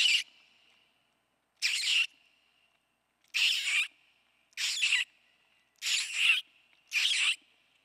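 A human voice imitates the call of a plum-headed parakeet, giving six shrill, squeaky bursts spaced roughly a second apart with clean silence between them.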